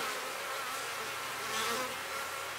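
Honey bees buzzing around an opened hive during colony splits, a dense continuous drone of many insects at close range, steady with a slight swell midway, no speech.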